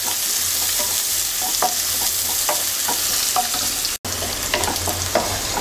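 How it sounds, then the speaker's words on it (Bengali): Chopped onions frying in a pan while being stirred, a continuous close sizzle broken by repeated scraping stirs, with one brief drop to silence. "পেঁয়াজটাকে হালকা ভেজে নেব।"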